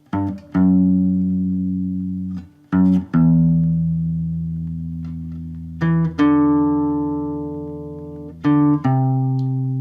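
Low bass notes picked on a guitar ring out and sustain, with a few sharp plucks starting new notes every couple of seconds, clear and alone.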